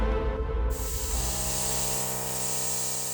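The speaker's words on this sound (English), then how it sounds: "I then went back to my airbrush and, using the model colour paint in the purple, started to add additional highlights to individual bulges and veins" An airbrush spraying purple model paint to highlight bulges and veins on a scratch-built Guyver figure, a steady close hiss that starts strong and shifts to a thinner, even spray for the rest.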